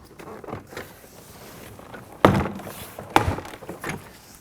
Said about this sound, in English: I'm going to undo the plastic clips, go along the entirety of the door panel.